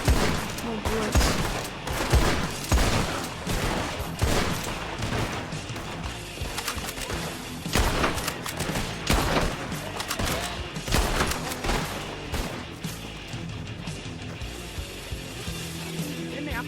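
Rapid volleys of gunfire in Red Dead Redemption 2 on a WildRP server, loud repeated shots cracking in clusters over a busy shootout, with occasional speech.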